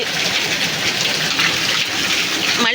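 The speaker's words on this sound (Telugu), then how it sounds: "అసలు ఎంత పెద్ద వాన పడుతుందో" Heavy rain falls steadily as a dense, constant hiss and roar of water pouring down, loud and close throughout with no voices.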